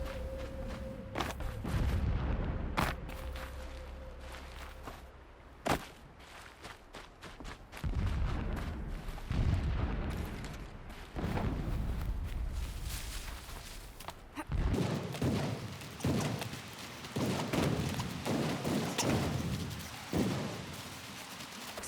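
Booms and bursts of gunfire rumble at varying distances in the video game Horizon Zero Dawn, some sharp and near, others dull and far, with a few footsteps between them.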